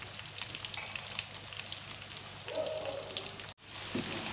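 Potato slices frying in oil in an electric frying pan: a steady, close crackling sizzle like light rain, swelling briefly as the pieces are moved, with a sudden cut near the end before it resumes.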